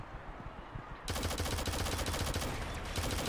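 Rapid automatic gunfire from a Shadowgun Legends PvP match, a fast dense stream of shots that starts abruptly after a brief moment of softer action sounds and keeps going loud and steady.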